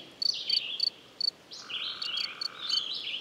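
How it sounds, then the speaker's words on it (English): A cricket picked up through a parabolic microphone gives bright, high chirps in short regular bursts, close and isolated against a quiet background, followed by a longer sustained trill. "And there's the cricket sound."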